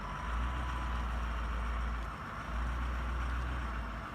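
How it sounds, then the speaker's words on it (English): A pickup truck engine runs at low speed while backing up to a trailer, a steady low rumble with a gentle swell and dip midway, faint and distant, with no voices. "Now we're going to show you how to properly back up the truck to the trailer, and Josh will be helping us out with this."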